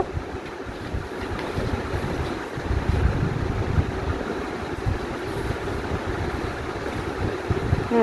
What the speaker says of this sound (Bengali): এবার ওই তেলেই আমি পটলগুলোকে ভেজে নেব।